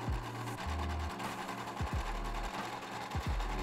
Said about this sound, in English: Set your sewing machine to the zigzag stitch and use that to overlap the edge that you just cut.